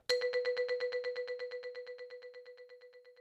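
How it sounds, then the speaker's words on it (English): One bright synth note rapidly repeating from a quick echo, the pulses fading steadily over about three seconds, with no voices. "one single note that I added a very fast delay to"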